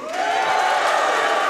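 A live event crowd at a speedrun charity marathon cheering in reply to the host, a sustained roar of voices rising quickly and holding steady, close and loud.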